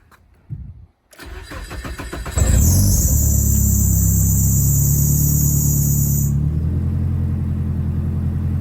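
Cold start of a Toyota Chaser JZX100's 2JZ engine: a brief starter crank, then a loud catch into a steady high idle with a whining tone that later drops away, close and continuous.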